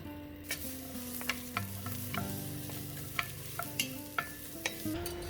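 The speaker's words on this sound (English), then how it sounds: "Add the diced onion and green pepper and cook it until slightly tender." Diced onion and green pepper sizzle in olive oil in a pot while a utensil stirs and taps in irregular strokes; a low steady hum runs underneath, with no voices.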